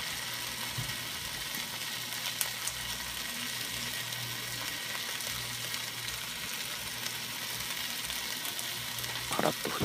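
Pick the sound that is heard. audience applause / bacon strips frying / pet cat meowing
bacon strips frying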